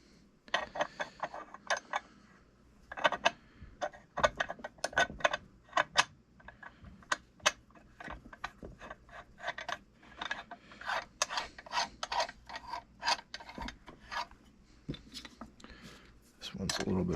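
An adjuster is threaded by hand into a Ford 9 inch differential housing, giving close metallic scraping and ratcheting clicks in irregular bursts with brief pauses, while a person talks.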